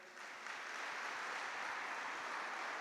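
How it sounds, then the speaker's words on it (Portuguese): A church congregation at a Christian conference applauds steadily, a dense, sustained wash of clapping at moderate distance with no talk over it. "Eu queria que vocês aplaudissem o Senhor pela vida dessa igreja."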